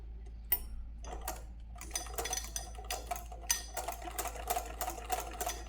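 A sewing machine stitching a sleeve during a sewing lesson, running in repeated short bursts of rapid needle clatter with brief pauses between them, close and clear with no talk.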